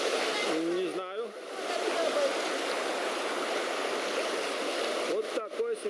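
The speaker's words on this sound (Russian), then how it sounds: "Там дальше 3-метровый водопад." Small three-metre mountain waterfall in Turkmenistan, a steady broadband rush of falling water close by, with voices talking briefly over it at the start and the end.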